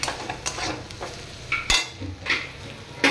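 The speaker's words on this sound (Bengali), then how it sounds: "হলুদ দিলাম, ধনে গুঁড়ো, জিরে গুঁড়ো সব মিক্স করে এটাকে এবার নাড়তে হবে।" Turmeric, coriander and cumin powder being stirred in a pan while cooking taro greens, with soft scraping strokes and a light sizzle, a few sharper spoon scrapes standing out, no talking.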